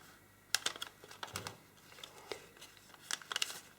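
Paper being folded and creased by hand while making an origami grizzly bear, heard as a run of soft, close crinkles and sharp taps in irregular bursts with pauses, fairly quiet and with no talking.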